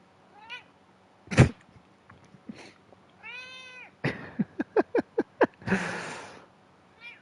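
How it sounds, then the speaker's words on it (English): A house cat meows several times at close range, with short rising calls, a few sharp knocks and a rapid series of clicks, and brief rustling noise near the end. "Oh my goodness, cat."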